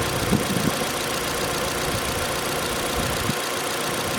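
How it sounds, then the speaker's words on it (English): Car engine running steadily at about 2000 rpm with lights, radio and heater switched on, a loud continuous hum and rumble close by with no break and no talk. "I've now started the engine. It's running at about 2000 revs."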